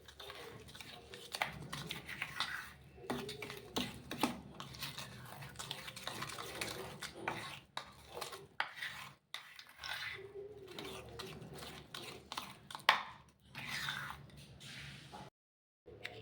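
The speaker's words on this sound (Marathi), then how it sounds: "यामध्ये आपण आता साखर घालून घेऊयात, इलायची, हे पण छान मिक्स करून घेऊयात।" Shrikhand being stirred with sugar and cardamom in a bowl: soft repeated scraping and light clinks of a spoon against the bowl, fairly quiet with brief pauses.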